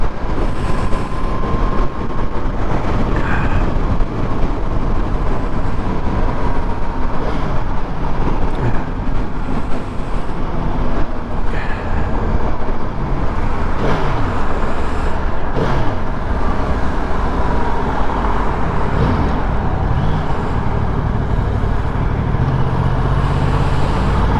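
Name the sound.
road traffic noise while riding a Yamaha R1 motorcycle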